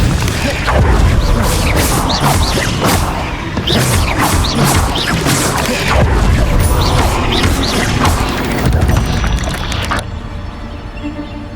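A Confringo fire blast erupts in Hogwarts Legacy, a loud run of crashing impacts and crackling bursts repeating for about ten seconds before dropping to a quieter rumble.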